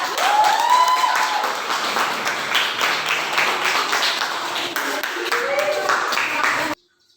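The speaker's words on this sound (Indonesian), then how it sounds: "Ya, tepuk tangan untuk kelompok 4" Students in a classroom applaud a group after its presentation, a steady round of clapping with voices chattering over it, stopping abruptly near the end.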